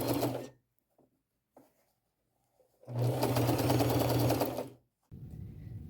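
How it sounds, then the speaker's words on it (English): A sewing machine runs a large zigzag stitch on a white shirt, in two bursts of steady rhythmic whirring and clicking with a long one in the middle, separated by quiet pauses with small handling clicks, close and clear. "Now on this one, I'm using my largest zigzag stitch."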